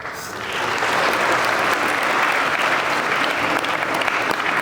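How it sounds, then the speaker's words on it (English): A school audience applauds steadily for newly named prefects at a recognition day, a dense, sustained wash of clapping that swells in quickly and holds loud throughout. "Please join us in giving the prefects a round of applause."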